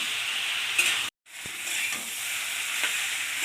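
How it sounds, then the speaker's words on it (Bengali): Masoor dal bori curry sizzles as it sautés in a pan, a constant close hiss with a few light stirring scrapes and one brief dropout in the middle. "আরও 10 মিনিট মতো আরও একটু ভালো করে কষিয়ে নেব।"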